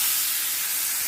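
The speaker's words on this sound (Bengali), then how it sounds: "ভাজা হয়ে গেছে, এখন কচু শাকটা ঢেলে দেবো" Taro greens hit hot oil where garlic, panch phoron and dried red chillies have been frying, giving a steady, loud, close sizzling hiss that lasts throughout without any talking.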